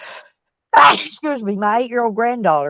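A single sharp sneeze bursts out loud and close, then a person starts talking right after it.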